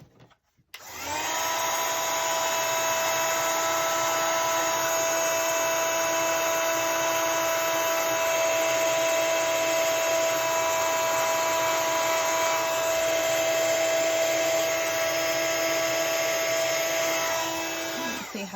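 A heat tool for embossing blows on a stamped card, a continuous loud whirring hum with a steady whine that starts abruptly and holds for the whole stretch without any talking.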